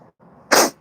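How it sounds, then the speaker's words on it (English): A single sharp sneeze bursts out indoors in a kitchen, loud and close, preceded by a brief quiet intake of breath. "Where does that sneeze come from?"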